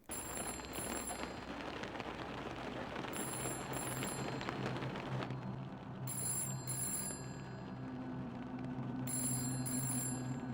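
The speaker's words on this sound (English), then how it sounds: "we wake up to the sound of a telephone ringing" A telephone bell rings in a video game after waking in a trashed cafe, sounding in repeated bursts of bright trilling over a dense, murky ambient drone that stays loud throughout.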